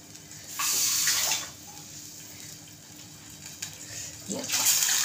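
Water saved from washing soaked dal is poured into a cooking pot on a gas stove, in two splashy pours: a short burst near the start and a longer, louder one at the end, with quieter kitchen background between.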